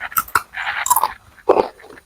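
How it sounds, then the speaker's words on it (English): Close, crisp crunching and biting on a crunchy Chinese snack, with several sharp crunches in bursts and quiet pauses between them, and no talking. "I just want to hear the chewing."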